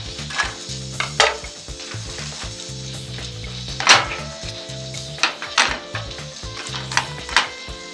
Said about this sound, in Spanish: Ahora lo que voy a hacer es sofreír. Yo empiezo con el aceite frío, con la cebolla.